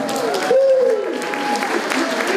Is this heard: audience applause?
yes